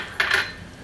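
A utensil clinks and scrapes in a pan, mixing cherry tomato pasta with fresh basil; one short clattering burst, close and clear, then quiet.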